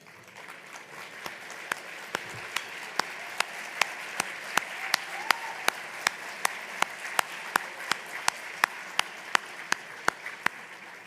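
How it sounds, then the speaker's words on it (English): An audience at an annual meeting applauds standing lifetime friends, a soft wash of many hands under one loud, close clapper striking in a steady, regular beat about twice a second throughout. "let's give them a round of applause"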